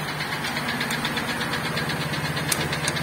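A GAZelle 2775 engine runs steadily with a low, even rumble and faint repetitive ticking or knocking noises, heard close and continuous with no talk.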